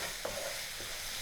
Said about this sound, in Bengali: নাড়িয়ে চাড়িয়ে বেগুনগুলো ভালো করে ভেজে নেব।